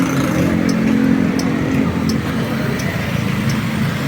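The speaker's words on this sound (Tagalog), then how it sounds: "Kung maririnig nyo, may sound yung kanyang turning signals," Turn signal on a SYM Cruisym 150 motorcycle gives a steady series of light, evenly spaced ticks, about five in a row, over the continuous low rumble of the idling engine.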